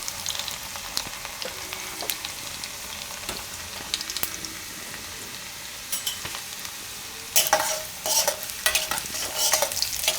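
Garlic and whole cumin seeds fry in hot oil for a Gujarati peas and tomato curry, a constant close sizzle with occasional stirring clicks, turning into busier, louder scraping and spattering toward the end, with no talk.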